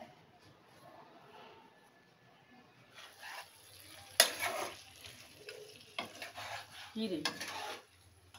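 Meat cooks in a pan, with faint sizzling and clanking utensil strokes against the pan that come in louder bursts partway through, while people talk.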